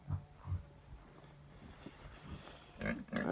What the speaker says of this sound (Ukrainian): Йдемо далі поросята наші. В'єтнамські.